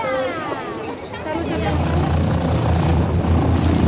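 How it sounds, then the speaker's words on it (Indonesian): A search-and-rescue helicopter flies overhead during a landslide evacuation, its rotor thudding as a loud, steady drone that builds and stays close throughout. "Tim SAR gabungan menggunakan helikopter untuk membantu evakuasi para korban."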